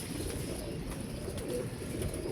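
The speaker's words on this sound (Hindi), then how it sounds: "कबूतर शबूतर निकाल रहे हैं" Pigeons coo softly and steadily, low throaty murmurs repeating over a constant background hiss with no voices.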